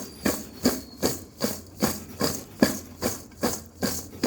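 Raw mango pickle ingredients for Goan korum being mixed by hand in a bowl, heard as a steady rhythm of scraping, clattering strokes about twice a second, close and moderately loud.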